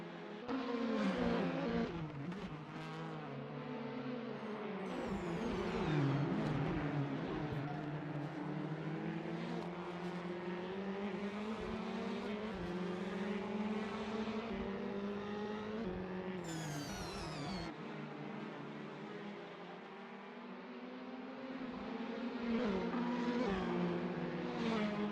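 Porsche and Lamborghini prototype race cars at Daytona, a continuous engine drone with shifting pitch as the cars rev and pass, steady and fairly loud throughout.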